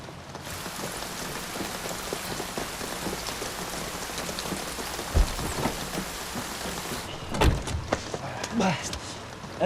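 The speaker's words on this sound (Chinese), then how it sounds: "这雨是越来越大了" Heavy rain pours down steadily as a dense, continuous hiss, with a few thuds and knocks breaking through near the end. Talk can be heard faintly in the background.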